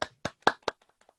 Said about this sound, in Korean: 참여해 주신 분께 박수.